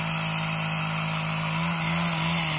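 Engine-driven power trimmer cutting tree branches along a flower path in a garden, a steady loud continuous drone close to the microphone with no pauses and no talking.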